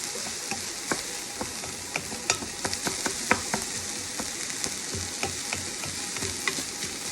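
Chopped vegetables, mainly onions, sizzle steadily in a hot pan during deglazing for a whole-food plant-based golden soup, with repeated close scraping and stirring knocks.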